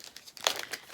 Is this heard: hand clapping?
no